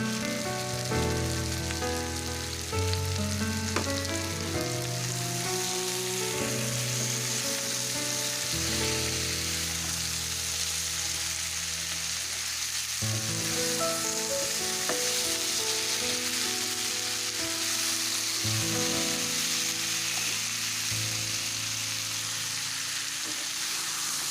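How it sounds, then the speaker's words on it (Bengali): Potatoes and pumpkin pieces fry with spices in a pan for a crab curry, giving a continuous, moderately loud crackling sizzle that holds steady throughout, with no talk over it. "আলু কুমড়োগুলো ভালোভাবে ভেজে নিয়ে"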